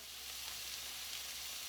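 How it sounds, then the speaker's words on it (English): Breakfast frying in a pan gives a steady, close sizzle with a dense, even hiss and no voices over it. "I want you to hear it sizzling."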